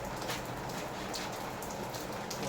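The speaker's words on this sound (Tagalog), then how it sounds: "Umuulan." Steady rain patters continuously on a surface, a soft even hiss with scattered drops throughout and no other sounds.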